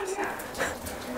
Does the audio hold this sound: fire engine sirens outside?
no